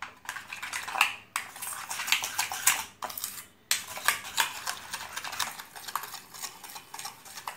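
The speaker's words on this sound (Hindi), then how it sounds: "अभी बनाना मैश करके हो गया और जो एग लिया वो ऐड किया और बनाना को साथ अच्छी तरह से पहले मिला लूँगी।" Mashed banana and egg being mixed in a bowl for banana cookies: rapid, rhythmic clinks and scrapes of a utensil against the bowl, close and fairly quiet, with brief pauses between bursts of stirring.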